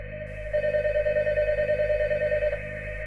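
An electronic phone in a school gym rings with a steady warbling trill that starts abruptly and holds for about two seconds over a low hum.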